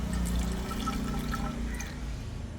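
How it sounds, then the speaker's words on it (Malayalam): About ten millilitres of plain, uncoloured water poured out in a steady trickling stream, close and continuous over a low background hum. "10 മില്ലി വെള്ളമാണ് ഞാൻ ഒഴിക്കാൻ പോകുന്നത് കേട്ടോ"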